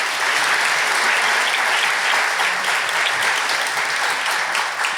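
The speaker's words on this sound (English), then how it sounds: "Let's give them a round of applause." A crowd at an annual meeting applauds steadily, with dense clapping filling the whole stretch at an even loudness and no voices above it.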